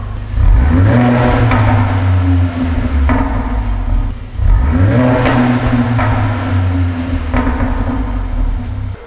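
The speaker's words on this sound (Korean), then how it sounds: "이 차량 배기음 들어볼게요" Exhaust of a Mercedes-AMG A45 4MATIC (W176) revving hard twice, each rev rising to a loud sustained roar then falling back to a rumbling idle, close and unaccompanied by talk.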